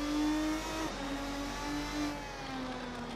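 The engine of a Lister Storm GT race car, the GT Tornado, in Assetto Corsa at Road America revs and climbs through gears with a loud, continuous harmonic whine, alone and without talk.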